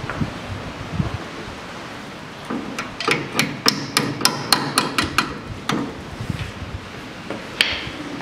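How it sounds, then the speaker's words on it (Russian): Metal hammering on a retaining clip securing a brake hose fitting on a 2006 Hyundai Porter truck: a rapid series of about a dozen sharp, close metallic taps in a burst, with quieter rustling before and after. "Вставляем его в разъем и фиксируем стопорной скобой."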